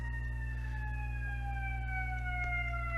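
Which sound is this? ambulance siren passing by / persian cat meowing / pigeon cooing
ambulance siren passing by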